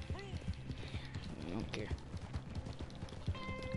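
Galloping horse hooves in Red Dead Redemption 2 clop rhythmically in the foreground alongside other game sounds, while a player talks over them throughout.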